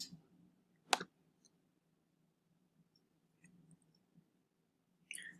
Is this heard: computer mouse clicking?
yes